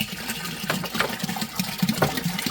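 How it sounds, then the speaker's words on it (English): Spring water splashes and gurgles into a 30-gallon plastic fermenter holding a peach brandy mash. The uneven pouring runs steadily at moderate volume over a low mechanical hum, with no voices. "I'm gonna add more spring water till this thing's about full."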